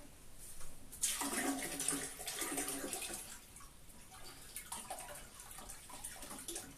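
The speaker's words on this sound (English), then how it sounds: "The easiest way is with a short length of hose pipe and just siphon it out." Water from a toilet tank is siphoned out through a short hose pipe, making a steady gushing, trickling flow that swells early on and then runs on at a moderate level close by.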